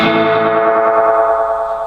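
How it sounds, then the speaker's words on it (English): Electric guitar through a Danelectro BLT delay pedal modified for an extended repeat range, its echo building toward feedback as a dense, loud, sustained distorted wash of overlapping repeats that slowly thins. "As you can hear, it's starting to feed back."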